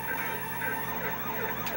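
A police car siren wails steadily and loudly while chasing the player in the Simpsons Hit and Run video game, one continuous close siren with no speech.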